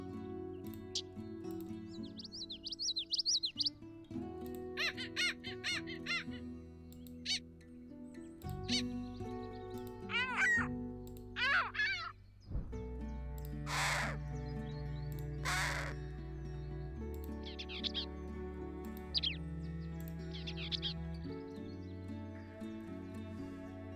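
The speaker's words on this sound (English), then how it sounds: "Let's listen to some bird sounds while we're waiting between turns" Bird calls from Wingspan Digital Edition: a series of distinct crow-like caws, chirps and squeaky calls, each separated by short gaps, over a low sustained musical backdrop, with no talking.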